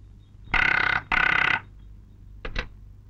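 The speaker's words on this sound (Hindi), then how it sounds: "ठकराल, ऑफिस तुम्हारे लिए फोन है।" An office telephone rings in two loud electronic bursts with a short gap between them, followed by a brief pair of fainter clicks, as if the handset is being picked up.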